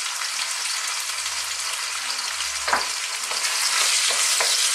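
Chopped onion and celery with pork fry in a hot pan, giving a steady, loud, close sizzling hiss with a single scrape of stirring midway and no voices.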